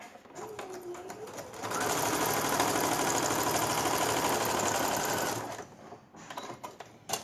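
A sewing machine stitching patchwork fabric along a marked line runs in one steady, dense whirring burst of several seconds, with quieter handling sounds and faint bird calls before and after.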